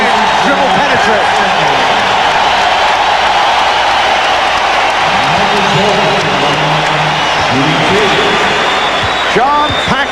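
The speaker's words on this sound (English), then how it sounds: "John Paxson hearing it from the crowd" A packed arena crowd roars and murmurs during a 1993 NBA Eastern Conference Finals playoff game between the Knicks and Bulls, a loud continuous wash of noise with a commentator talking over it.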